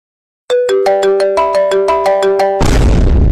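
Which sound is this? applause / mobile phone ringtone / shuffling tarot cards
mobile phone ringtone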